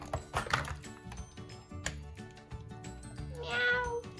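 A new pet kitten meows in a few short calls, close and fairly soft, with light rustling and handling noises around it.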